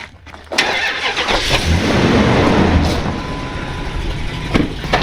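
Gray pickup truck engine cranking and catching after a short quiet moment, then a loud steady idle rumble close by.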